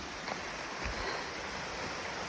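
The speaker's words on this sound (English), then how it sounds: "another beautiful waterfall" Waterfall beside a hiking trail near the Greenbrier River, a steady, broad rush of falling water heard from a moderate distance, filling the scene evenly with no voices.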